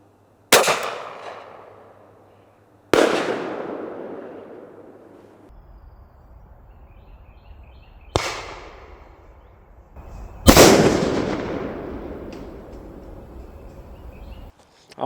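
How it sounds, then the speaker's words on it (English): Four loud, sharp booms from a 37mm civilian grenade launcher used as a flare launcher, spaced a few seconds apart, each ringing out with a long decaying echo outdoors. "37mm grenade launcher or flare launcher from IWA"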